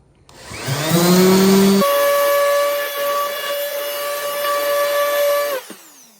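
Power sander working 220 grit sandpaper over a part on a 2023 Honda Trail 125, a steady loud whining drone with tonal hum that shifts pitch partway through, running continuously before cutting off near the end.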